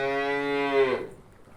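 A single long, resonant moo from a nearby cow, steady and full before trailing off abruptly.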